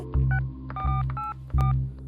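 A telephone number is dialed in a Hindi crime drama: a quick series of touch-tone beeps, some close together, over a loud, low droning musical background.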